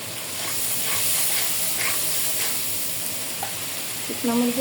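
Spice paste fries and is stirred in a pan with a loud, close, continuous sizzle and hiss, swelling in waves as it is moved; a brief voice-like tone enters at the very end.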